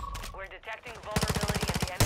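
Gunfire in Call of Duty: Modern Warfare II, a rapid run of loud, evenly spaced shots close by, with brief voiced sounds and other game noise just before the burst.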